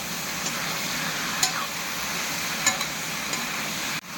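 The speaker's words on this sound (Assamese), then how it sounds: "এতিয়া চব্জিটো দিওঁ, চব্জিটো ভাজি লওঁ" Vegetables sizzling in hot oil in a pan after onions and chillies were fried, a steady close hiss broken by a few soft scrapes of stirring and a sharp knock near the end.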